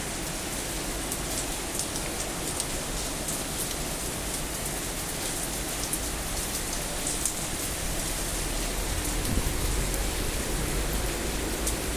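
Steady, heavy rain pours down continuously in Visakhapatnam, a dense hiss of drops hitting surfaces and plants with no pauses.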